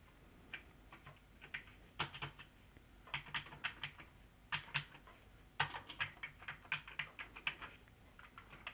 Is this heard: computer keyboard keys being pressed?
yes